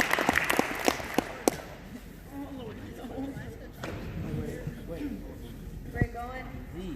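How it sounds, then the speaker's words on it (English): An audience at a school award ceremony applauds the eighth grade students, a short burst of scattered claps at the start that quickly gives way to talking voices over a murmuring room. "One last applause for 8th grade."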